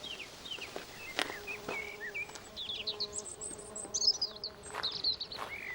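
Insects buzz steadily among garden flowers, a close, droning hum with wavering pitch, while birds chirp and tweet brightly around it throughout.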